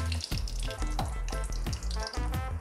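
Cashews and almonds frying in hot fat with cardamom for an apple sweet: a dense, loud, close crackling sizzle with quick spitting bursts throughout, and no voices.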